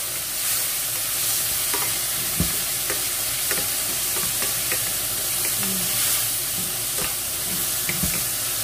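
Fresh tomato fries in butter in a hot pan, giving a loud continuous sizzle and hiss with occasional clicks and scrapes of stirring throughout.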